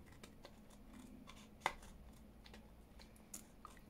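Scissors trimming paper for junk journal belly bands, giving a few quiet, sparse snips and crisp cuts against a hushed room, with one sharper cut standing out.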